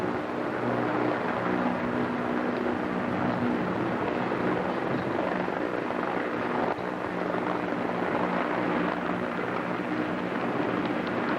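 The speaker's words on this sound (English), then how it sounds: "The sound you hear, a New York City police helicopter hovering above" A steady, droning New York City police helicopter hovers overhead throughout, constant and fairly loud, with a faint rhythmic rotor throb and no voices.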